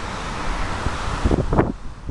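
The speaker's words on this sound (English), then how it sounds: "It's a breezy day." Breezy outdoor wind on a school grounds, a steady broadband rush with gusty swells and a few soft low bumps near the end, fairly close to the microphone.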